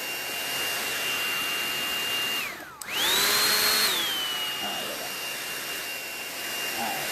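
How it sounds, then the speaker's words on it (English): A blow dryer blows over a wet Chinese ink painting of fish, a loud steady whine that cuts out briefly, then restarts with a rising pitch before settling back into a continuous whir. "just take a blow dryer."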